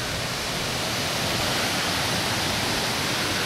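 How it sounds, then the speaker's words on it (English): A creek with a small waterfall rushes in a steady, broad hiss of falling water, constant and close without any pauses or voices. "this is the creek that runs behind here"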